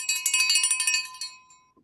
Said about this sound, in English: Oh yeah, you get a bell.